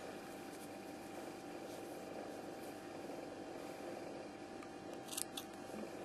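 Scissors snip yarn while finishing a crocheted coffee cup cozy, a couple of faint quick cuts near the end over quiet room hum.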